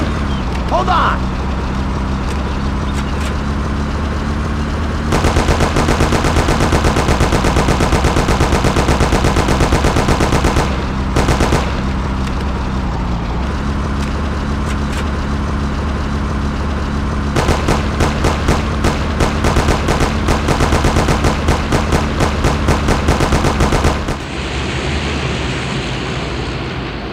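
Loud, sustained gunfire in the PlayStation 1 video game Mafia: long stretches of rapid machine-gun bursts over a rumbling, washing background, with brief breaks before the firing resumes and fades near the end.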